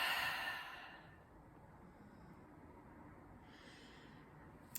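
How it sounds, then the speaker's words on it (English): A single long breath, loudest and most airy at the start, then fading into a soft, steady hiss of room tone, close to the microphone and without speech. "And take a breath."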